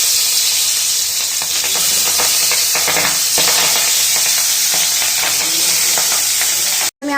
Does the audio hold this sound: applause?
no